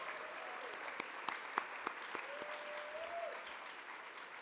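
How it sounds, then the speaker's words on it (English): An audience at an education conference gives a round of applause, a steady faint wash of clapping with a few sharper individual claps and a faint tone sliding through partway. "Give him a round of applause."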